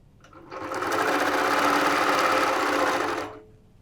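An HQ Moxie longarm quilting machine stitches in one steady, close, buzzing run of about three seconds, starting and stopping cleanly.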